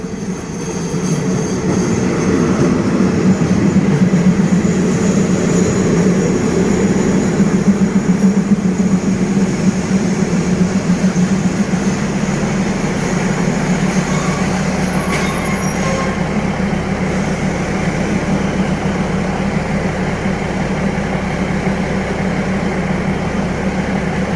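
A passenger express train from Phitsanulok to Nong Tom, Thailand, rumbles loudly and continuously, wheels rolling on the rails with a brief high squeal partway through.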